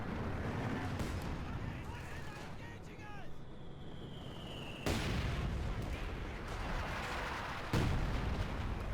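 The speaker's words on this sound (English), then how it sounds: "Wow, we have artillery." Artillery barrage in Company of Heroes 2 during a tank battle, heavy distant booms landing at intervals over a constant rumbling battlefield, with a whistling shell passing before an impact.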